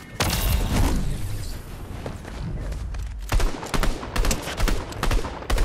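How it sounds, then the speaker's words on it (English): Gunfire in the Fortnite video game: a rapid series of loud shots and bursts, with a dense spell at the start and more clustered cracks later, mixed with game effects and thuds. "Shots!"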